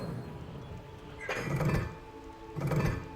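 Incendio fire spell cast in Hogwarts Legacy, two short whooshing bursts of flame about a second apart, each with a muffled low thump, faint against quiet game ambience.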